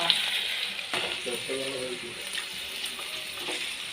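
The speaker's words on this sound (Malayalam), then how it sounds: "പച്ചമുളകും വെളുത്തുള്ളിയൊക്കെ വഴറ്റി അതിനുശേഷം മീൻ ഇട്ട് കൊടുക്കുകയാണ്" Fish frying in a pan with green chillies and garlic for a Karunagappally-style tuna curry, giving a close, steady sizzle with a few stirring scrapes and clinks along the way.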